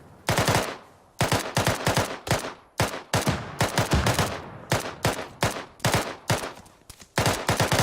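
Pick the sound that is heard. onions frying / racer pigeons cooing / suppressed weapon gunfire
suppressed weapon gunfire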